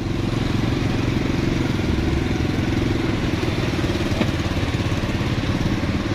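A multicab vehicle's engine runs through floodwater in Davao City, giving a loud, steady, close rumble with light clatter throughout and no talking.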